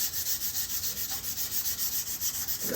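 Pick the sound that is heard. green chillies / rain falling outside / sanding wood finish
sanding wood finish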